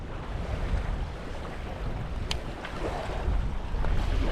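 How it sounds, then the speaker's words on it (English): A strong gust of cold wind buffets the microphone while fishing from a boat on open water, a steady broadband roar rising and swelling toward the end, with faint water movement beneath. "Oh, a big gust of wind right there."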